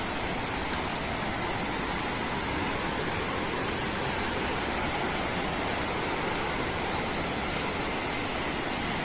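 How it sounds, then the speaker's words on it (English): River water gushes down from a waterfall along a forest trekking trail, a loud, constant rushing roar with no breaks and no voices. "It is falling directly from the waterfalls, so it is gushing along its natural path formed by the force of the water."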